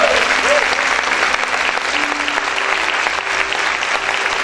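A church congregation claps loudly together, a thick, sustained wash of applause filling the room, with a faint voice or tone drifting underneath.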